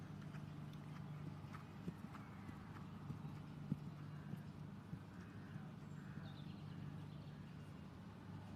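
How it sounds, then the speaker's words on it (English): A horse in an outdoor dressage arena at an international eventing nations cup competition walks forward with soft, steady clip-clopping hooves, faint and somewhat distant over a low steady background hum. "Hilda Billy Orinoco coming forward"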